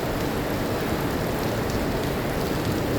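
Heavy rain pours down steadily on a Monday, with water rushing along the street, making a dense, unbroken roar that stays loud and even throughout, with no voices.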